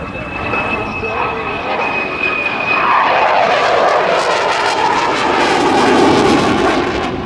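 F/A-18C Hornet jet roars past at the 2007 Dayton airshow, a loud sustained engine rush that swells and shifts in pitch as the fighter flies by.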